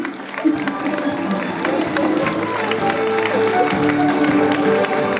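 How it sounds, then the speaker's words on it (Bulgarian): Audience applauding a young contestant at a Little Miss and Little Mister children's pageant in Lovech, a steady patter of clapping from a crowd with a voice over a PA. "Аплодисменти за нея."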